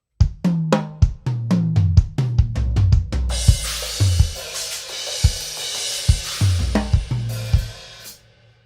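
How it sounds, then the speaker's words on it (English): Linear drumming pattern on a drum kit, each hit landing alone with no two limbs striking together: quick tom and kick strokes, then a steady wash of cymbals over punchy kick and snare hits, loud and close. "We say linear drumming when we're talking about no two limbs hitting at the same time"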